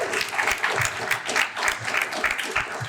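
Audience at a large left-wing and ecologist union rally for municipal elections applauds their graphic designer, steady dense clapping with scattered louder claps, fairly close and continuous for about three seconds.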